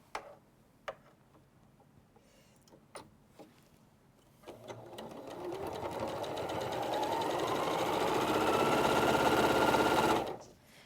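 Sewing machine chain piecing quilt pieces, a few scattered clicks and taps at first, then a steady motor whir that builds and runs continuously for several seconds before stopping abruptly.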